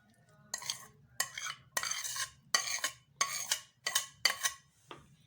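Mayonnaise and finely chopped egg whites are mixed in a bowl for an egg sandwich filling. Eight rhythmic, close, wet scraping strokes of a spoon come evenly spaced, with no talking.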